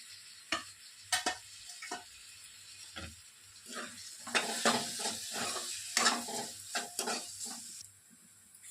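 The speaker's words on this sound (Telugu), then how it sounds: "కట్ చేసి పెట్టుకున్నటువంటి 2 పెద్ద సైజు టమోటాలను వేసేసుకొని బాగా ఫ్రై చేసుకోవాలి" Two large chopped tomatoes fry with masala in a pan for chicken handi, a spatula scraping and clacking in irregular strokes over a soft sizzle, close and fairly loud.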